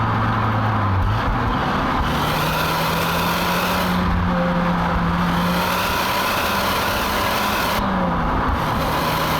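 A Toyota Starlet Glanza V engine drones and pulls after a downshift, a steady loud engine and road roar from inside the car with a slowly rising tone and no talk.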